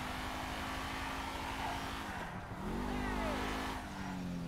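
A broken-down car in the video game GTA 5 revs unevenly, its droning engine note holding, dipping in pitch midway, then climbing again, fairly quiet and continuous with faint game ambience behind.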